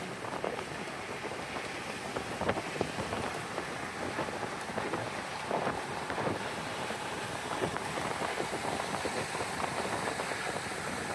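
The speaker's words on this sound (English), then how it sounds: "Oh, it's windy." Steady wind buffets the microphone near the Sunshine Skyway Bridge in St. Petersburg, Florida, with broad rushing noise and gusty rumbles, continuous and fairly loud, with no voices.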